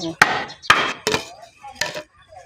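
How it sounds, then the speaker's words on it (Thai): Bamboo strips are split and worked by hand without machines, with four sharp, close knocking cracks spaced unevenly over a couple of seconds, separated by quieter rustling in between. "จับตอกด้วยมือนะไม่ได้ใช้เครื่องนะ"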